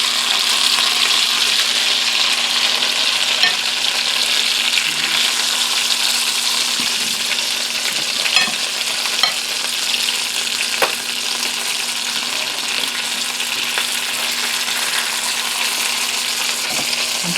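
Apple-filled pierogies fry in butter in a pan, giving a steady, close crackling sizzle throughout with a few small pops and clicks, no voices.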